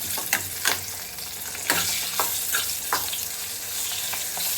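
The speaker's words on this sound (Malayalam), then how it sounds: "മൂന്ന് പച്ചമുളക് ഞാൻ ഇടുന്നുണ്ട് നമുക്കൊന്ന് ഇളക്കി കൊടുക്കാം" Three green chillies fry in hot oil in a pan with a continuous close sizzle, broken by several sharp scraping strokes as a spoon stirs them.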